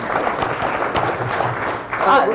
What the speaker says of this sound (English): clap for ourselves